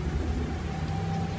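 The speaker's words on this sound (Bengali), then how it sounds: "তার উপরে আবার এই বৃষ্টি" Steady rain and low rumbling thunder in an animated horror cartoon set on a dark stormy night in jungle, a continuous dense downpour with no speech.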